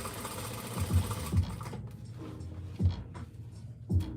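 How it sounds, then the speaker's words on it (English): A sewing machine stitches fabric for a girls' dress, running close and continuous with a few louder thumping pulses as the fabric is held down and fed. "laying down with my finger and sewing"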